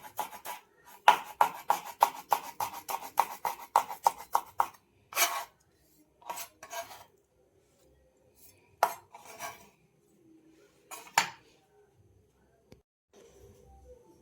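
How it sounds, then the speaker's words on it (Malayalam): Knife finely chopping spring onion stalks on a board, a quick run of close, crisp rhythmic taps followed by sparse single cuts and pauses, with no talk. "ഇത് ഒരല്പം നമ്മുടെ ചെറുള്ളിയുടെ തണ്ടാണ്. അതും കൂടെ ചെറുതായിട്ടൊന്ന് അരിഞ്ഞിടുക"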